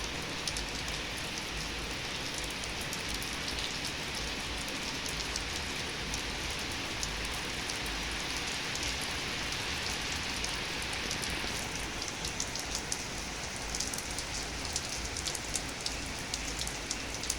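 Heavy rain pouring onto surfaces in a downpour that floods rice fields, a dense, even roar of drops that stays loud and unbroken throughout.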